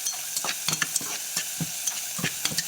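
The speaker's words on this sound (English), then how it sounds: "I have carrots, onion, and garlic, and I'm going to sweat these until they get nice and soft" Carrots, onion and garlic sweating in a pot, gently sizzling while a spoon stirs them, giving repeated close clacks and scrapes at an uneven rhythm over the soft hiss.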